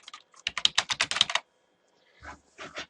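Fast burst of typing on a computer keyboard, about a dozen crisp close key clicks in quick rhythm, then silence and two softer clicks or taps near the end, with no voices.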